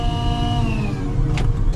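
A Volvo L120 electric wheel loader pulling away, its electric motor whine sliding in pitch over steady low rumble, loud and close, with a short rattling click near the end.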